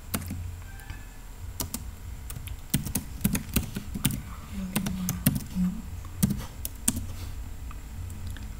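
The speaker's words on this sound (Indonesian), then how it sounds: "Kita ketikkan perintah PHP artisan make model" Typing a PHP artisan command on a computer keyboard, a close series of sharp, irregular key clicks and taps with small pauses between bursts.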